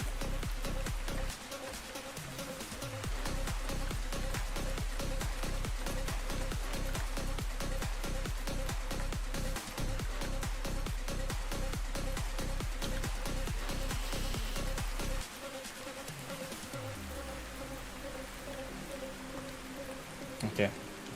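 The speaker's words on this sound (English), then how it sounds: "Bloody hell, it's raining." Steady rain falls in the survival game Ark Survival Ascended, a dense continuous patter with a regular rhythmic ticking over most of the stretch, loud and unbroken.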